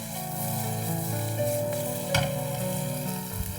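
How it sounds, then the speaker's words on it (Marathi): Mixed vegetables sautéed and tossed in a pan for a grilled veg sandwich, a steady close sizzle with a scraping toss partway through and no talking. "आपल्याला परतून घ्यायचं, नीट परतून घ्यायचं, छानपैकी असं टॉस करून घ्या"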